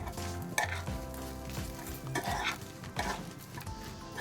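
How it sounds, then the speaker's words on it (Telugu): Fried tempering is stirred into rice for amla (gooseberry) pulihora, heard as close, rhythmic scraping of a spoon against a pot with faint sizzling underneath. "తాలింపుని రైస్లోకి వేసేసి అంతా కూడాను స్లోగా అదంతా రైస్ అంతా మిక్స్ అయ్యేటట్లు కలుపుకోవాలి."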